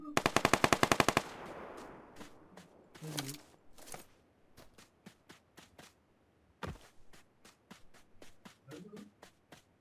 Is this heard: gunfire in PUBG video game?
yes